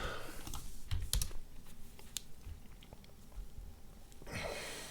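Keys clatter on a computer keyboard during an assembly programming session, a quick irregular run of clicks with a few louder strikes, close up and mostly alone with only faint background noise.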